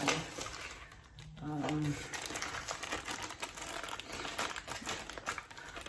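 Plastic shopping bag crinkling as clothing purchases are placed into it, a dry rustle running continuously at close range, with a brief voice-like tone partway through.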